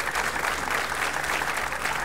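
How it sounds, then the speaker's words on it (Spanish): A studio audience claps steadily throughout, a dense, even wash of applause from a live television crowd during a New Year's Eve entertainment show. "vamos a darle ese aplauso y que se oiga ese aplauso para la gente que está lejos de casa"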